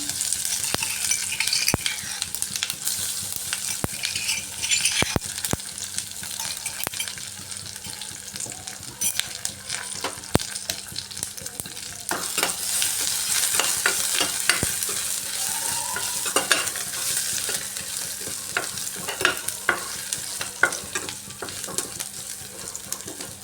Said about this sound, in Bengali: কুটে রাখা মশলাটা দিয়ে একটু ভাজা ভাজা করে নিয়েছি